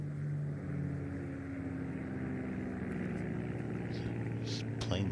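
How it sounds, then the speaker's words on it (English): A propeller plane passes over the course during the third round of the 149th Open Championship at Royal St George's. Its deep, throaty drone holds steady beneath voices and outdoor background noise. "There's a plane overhead."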